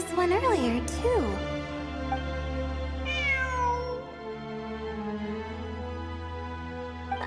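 A cat meows repeatedly in the video game Genshin Impact, a few clear rising and falling calls near the start and another around the middle, heard over a steady game music drone while people talk.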